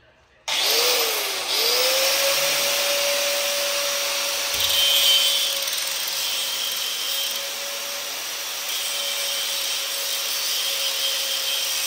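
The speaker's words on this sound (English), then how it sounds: "These boys we're going away with this Maximum Mastercraft Dremel" A Mastercraft Dremel rotary tool with a cutoff blade cuts steadily for about eleven seconds, a loud continuous high-pitched whine over harsh grinding noise that starts abruptly and barely changes.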